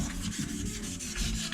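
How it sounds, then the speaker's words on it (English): A strip of emery cloth rubs back and forth on engine crankshaft counterweights in a race shop, close rhythmic scratchy strokes with no talk. "He got about a 12 or 18 inch piece of emery cloth so he don't beat his knuckles up on his counterweights."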